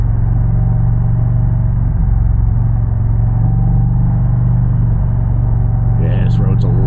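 Indian Challenger motorcycle fitted with a Powerband Audio Hawks Nest exhaust, ridden along a road near the Delaware River, holds a steady, loud, deep engine rumble throughout at cruising pace.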